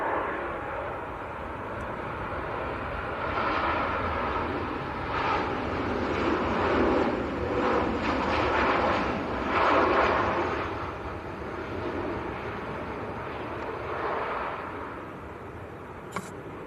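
A Ryanair Boeing 737 MAX jet airliner at Manchester Airport roars steadily at moderate distance, a broad engine rush that swells and fades over the whole stretch with wind noise on the microphone.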